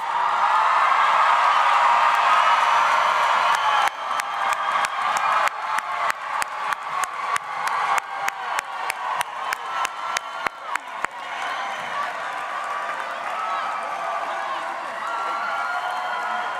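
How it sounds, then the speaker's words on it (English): A graduation crowd at Springfield Renaissance School cheers and whoops loudly, then breaks into a run of sharp, rhythmic claps before settling back into a broad, sustained roar of applause and cheering. "let's stand up and let's cheer for these graduates"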